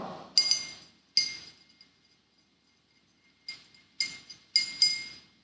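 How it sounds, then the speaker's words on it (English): A glass rod stirs saponin solution in glassware while the stain diffuses into distilled water, giving short bright clinks in small clusters separated by quiet gaps. "we have to mix it very well with the help of the glass rod"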